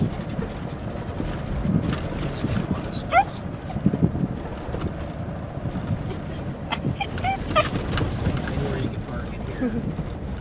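A dog whimpers excitedly inside a moving car, with high whines and yelps rising over road and wind rumble while a person speaks intermittently.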